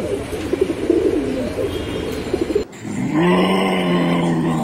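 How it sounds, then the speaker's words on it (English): A pigeon coos in soft, low, rolling phrases against an outdoor background, then a second, steadier and louder coo follows after a brief break. "Beautiful pigeon."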